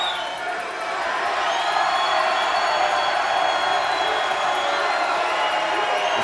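American crowd at a darts match, loud sustained cheering and whooping filling the arena at constant volume, with a few rising whistles or shouts above the roar.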